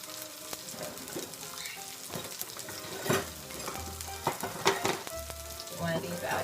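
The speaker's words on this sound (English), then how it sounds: "I'm just going to stir this around a little bit." Mushrooms and parsley sizzle in a frying pan while a utensil stirs them, giving a continuous crackling fry with irregular scrapes and clicks against the pan.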